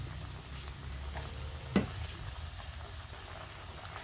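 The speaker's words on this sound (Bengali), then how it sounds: "আমি এই চিপসগুলো একইভাবে ভেজে নিব আবার" Potato chips fry in oil with a faint, even bubbling hiss and a single brief clunk partway through, low in level and free of speech.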